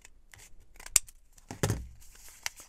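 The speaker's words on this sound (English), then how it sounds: "We can just cut this part off." Scissors snip paper remnants from a tag in a few quick, crisp cuts with small rustles between them, close and fairly quiet, with no talking.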